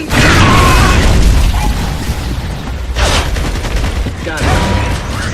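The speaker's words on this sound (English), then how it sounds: "Incoming grenade!" A grenade blast in Gears of War 3 booms loud and close, followed by further bursts and heavy gunfire over dense battle noise, with voices shouting in between.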